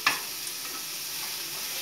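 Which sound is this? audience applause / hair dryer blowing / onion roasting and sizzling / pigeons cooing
onion roasting and sizzling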